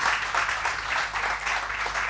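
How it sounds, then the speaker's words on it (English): Steady audience applause after a chef's cooking demonstration at a food event, dense clapping throughout the short clip with gentle rises and dips. "A round of applause for Bruce."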